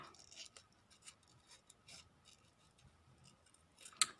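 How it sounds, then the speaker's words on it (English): Scissors snipping paper to cut out butterfly shapes at a craft table, a series of quiet, close, irregular crisp snips and rustles with short pauses between cuts. "Try and cut this out as quick as I can because you don't want to be watching me cut out butterflies all day."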